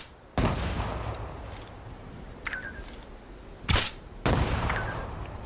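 Gunshots fired in a video game: a few sharp, loud cracks spaced apart over a steady hum of game ambience, one brief isolated bang mid-way, with no talking.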